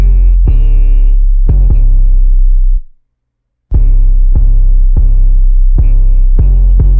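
Loud, deep 808 bass drum notes from a Tribute 808-1 sample ring out in a rhythmic pattern, each booming and sustained, with a short silent gap partway through.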